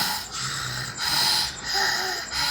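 A child fakes loud snoring to imitate a mother, with rhythmic raspy snorts and breathy inhales repeating about every second, close to the microphone.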